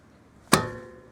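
A sledgehammer rigged as a makeshift slide hammer yanks once on a brake caliper piston, a single sharp metallic impact with a short ringing decay in a quiet garage.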